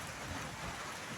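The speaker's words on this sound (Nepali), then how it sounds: "सो अहिले यहाँ पानी पर्दैछ" Rain falls steadily on a hiking trail toward Tarebhir, making a dense, even hiss that fills the short stretch. It sounds fairly quiet and diffuse, and no voices can be heard.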